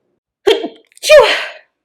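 A sneeze heard up close: a quick sharp intake followed by a loud explosive burst, then silence.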